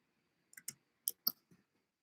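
Half a dozen quiet, sharp clicks of keys on a computer keyboard land in a short irregular burst, close by and otherwise silent.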